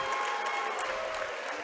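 A basketball crowd in a gym at a tournament championship game claps and cheers, a dense, steady wash of applause at moderate distance.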